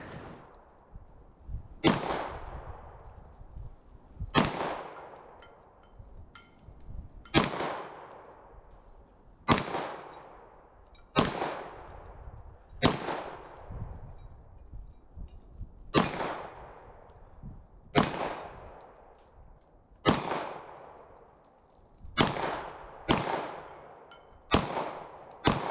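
A Tisas Duty 9DS 2011-style 9mm pistol fires at an outdoor range, about a dozen sharp, loud shots at irregular intervals, each with a ringing decay and no talking.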